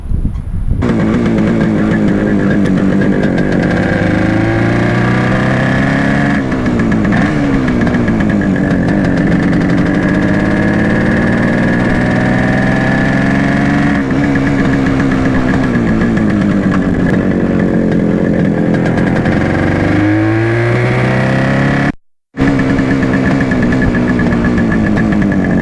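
A Suzuki two-stroke motorcycle engine idles steadily at close range for about 25 seconds, a continuous buzzing drone with slight wavering pitch and one brief dropout near the end.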